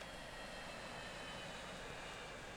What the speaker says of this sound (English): There's the airplane.